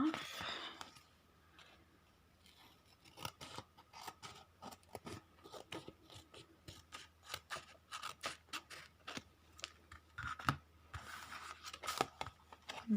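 Scissors snip through paper for a collage in a rapid series of crisp, close cuts with short pauses between them, quiet apart from the sharp blade clicks.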